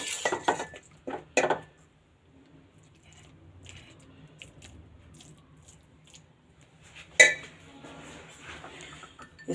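Carrot halwa dished out of a pot onto a plate, a few sharp clinks and scrapes of a spoon against cookware in short bursts with quiet gaps between, fairly close, no talking.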